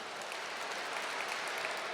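A crowd at a William & Mary welcome gathering claps. The sound is faint and continuous, a soft wash of many hands rather than distinct, countable claps, with no talking.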